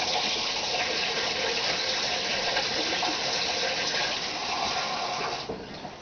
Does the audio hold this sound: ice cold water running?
yes